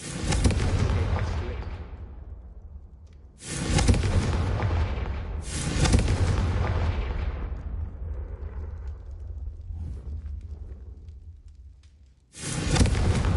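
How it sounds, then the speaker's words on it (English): Confringo spell blasts in Hogwarts Legacy, a series of loud booming explosions, each a sharp burst that decays over a couple of seconds, four in all, with no talk. "I think you'll find that a Confringo cast travels a bit farther than that of a spell like... Confringo!"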